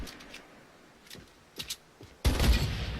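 Faint sharp gunshot cracks in Fortnite, then a single loud close sniper shot near the end that rings out with a noisy tail.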